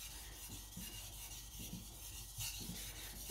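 A Patrik Carlvik Niolox nakiri knife is sharpened with soft, repeated rasping strokes over a stone, faint and close, in an uneven rhythm against a steady hiss.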